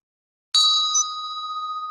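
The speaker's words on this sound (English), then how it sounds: "I found a bell, and it's 150 years old" A single strike on a 150-year-old bell rung during a ceremony gives a bright, clear metallic tone that rings on steadily with a gentle wavering shimmer after silence.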